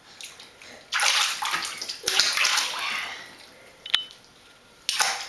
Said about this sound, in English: splashing in the water